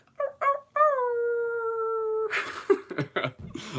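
A person imitates a wolf howl: a few short yips, then one long sustained vocal howl held for over a second, followed by a burst of breathy noise and quick sounds, close to the microphone.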